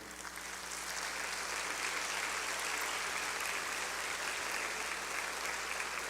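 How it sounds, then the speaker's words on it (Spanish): Steady, sustained applause from a church congregation welcoming a speaker, a dense even wash of clapping holding at moderate loudness throughout with no talk over it. "Adelante, don Gerardo, lo recibimos con un cariñoso aplauso"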